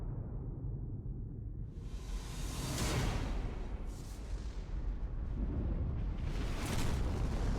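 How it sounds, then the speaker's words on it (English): Fireworks artillery in War Thunder erupts in rolling, booming blasts with whooshing bursts that swell and fade over several seconds, loud and layered with no talk. "I like the new fireworks artillery"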